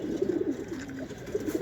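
A Sapchila pigeon at a breeder's home in Lalbagh coos softly and close by, in a short series of quick throaty pulses followed by a drawn-out low note and a few more pulses.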